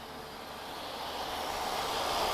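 A TAP Air Portugal Airbus A330neo, the first production example, arriving at Lisbon Airport from Cancun produces a broad jet roar that builds gradually as it draws nearer, heard alone without talk.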